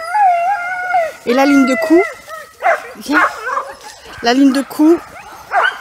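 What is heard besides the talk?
sled dogs howling and barking while being hitched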